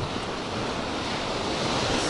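Ocean surf washes steadily onto the shore at Nikki Beach in Marbella, Spain, a continuous broad rush of waves mixed with some wind, with no voices.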